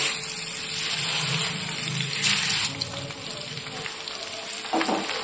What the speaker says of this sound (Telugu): ఆయిల్ హీట్ అయ్యాక ఇందులోకి మనం ముందుగా మసాలా పట్టి ఉంచిన చేపలను ఒక్కొక్కటిగా ఈ ప్యాన్లోకి వేసుకోవాలి